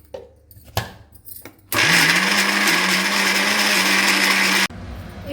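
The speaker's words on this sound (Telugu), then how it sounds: "పెద్ద మిక్సీ అయితే ఒక్కసారైనా వేసుకోవచ్చు" A household mixie grinds soaked corn into batter for Telangana makka garelu. A few clicks come first, then a loud, steady whir runs for about three seconds before cutting off sharply.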